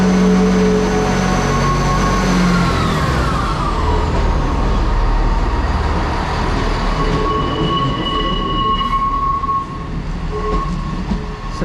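Northern class 158 diesel unit pulls out of Carnforth station, engine and wheels rumbling loudly close by with rising and falling tones as it accelerates away along the rails.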